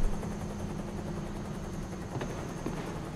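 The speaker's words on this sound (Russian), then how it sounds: "Слышу вертолет." Helicopter in the video game The Bureau: XCOM Declassified, a steady low rotor drone with a faint high whine, held at even loudness throughout with no talking.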